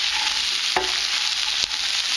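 Mushrooms coated in curry blend sizzle steadily in hot oil for chicken madras, with two sharp spoon-on-pan knocks from stirring standing out over the constant frying hiss.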